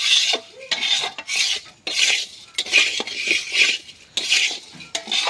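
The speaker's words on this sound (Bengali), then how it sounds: "এবার চালটাকে আমার একটু ভেজে নিতে হবে।" Rice is fried in a pan for biryani, with a spatula scraping and stirring in repeated rhythmic strokes and a faint sizzle underneath, close up and without voices.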